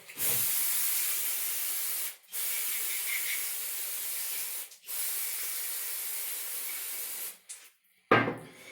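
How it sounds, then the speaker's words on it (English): Three long, loud bursts of aerosol spray hissing close up onto a snowblower carburetor to clean it, separated by short pauses, followed by a brief clatter at the end. "the next step is I'm going to spray the top of this off and clean it up"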